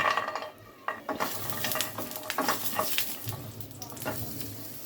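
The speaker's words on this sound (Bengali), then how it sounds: "এবার ফার্স্টে আমি ডালের বড়িগুলি ভেজে নিব" Lentil badis (dal bori) frying in hot oil in a home kitchen pan, a steady close sizzle broken by irregular stirring clatters and scrapes of utensil against pan, with no talk.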